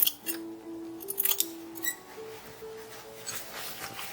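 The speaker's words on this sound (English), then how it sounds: "Lining ended up being a little bit bigger than the fashion fabric, so I'm just going to trim that down" Sharp scissors snip through fabric lining in a few quick, quiet cuts, close and alone, with small clinks between the cuts.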